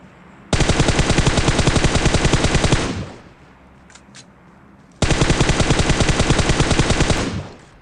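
M4 rifle fitted with a 3x scope firing in PUBG Mobile, two long sustained full-auto bursts of rapid, loud, close shots separated by a brief pause.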